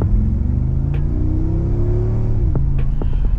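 Mercedes G-Wagon engine rumbling close by at a steady low drone, pitch rising as it revs, with a few sharp knocks toward the end.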